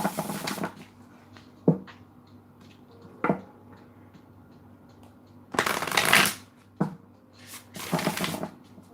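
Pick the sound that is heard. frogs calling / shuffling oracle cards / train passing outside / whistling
shuffling oracle cards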